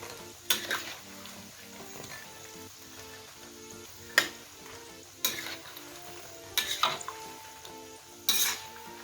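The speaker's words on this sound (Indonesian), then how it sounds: "Nah, ini sudah mulai kuning ya. Kita aduk-aduk terus saja." Fried chicken meatballs sizzle steadily in a pan while a utensil stirs them, scraping and clinking against the metal in several sharp bursts over the constant frying hiss.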